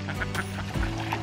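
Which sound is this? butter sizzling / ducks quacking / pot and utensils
ducks quacking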